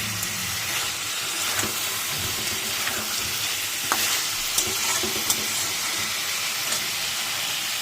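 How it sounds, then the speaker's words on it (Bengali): Water hits hot spiced oil in a pan for a bhetki fish and cauliflower curry, setting off a sustained loud sizzle and hiss with scattered crackles and pops throughout. "এবার এর মধ্যে আমি জল দিয়ে দেবো, যেহেতু ঝোল হবে একটু জল দেবো।"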